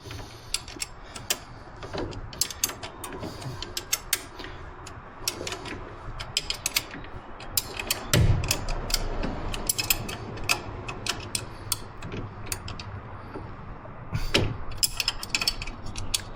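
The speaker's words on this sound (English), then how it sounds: "these are self-locking nuts, and they're brand new, and they come with the floorboard, so why not? So we're just going to tighten these up." Self-locking nuts on a new floorboard of a 2026 Harley-Davidson CVO ST Road Glide are tightened with a ratchet, producing close, irregular clicking runs and occasional metallic knocks over a steady low background.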